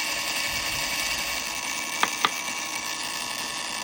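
A small rotary tool cleaning the primer pocket of a 300AAC rifle case gives a steady high whine, with two sharp brief clicks close together midway, near and without speech.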